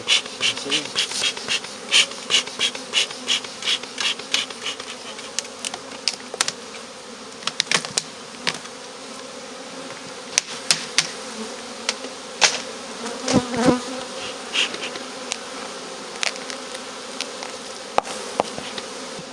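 Honey bees buzz around a hive at the start of the season, individual bees droning close past in a steady stream of passes against a soft background hum, with no talking.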